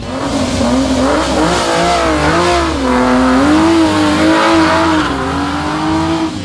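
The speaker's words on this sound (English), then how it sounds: "Every year, classic vehicles muster up for their chance to either race or be a part of the Shannons Classic Motor Show" A classic car races past at the 2015 Geelong Revival Motoring Festival, its loud engine holding a steady, wavering drone that rises and falls in pitch as it revs, close and dominant for several seconds.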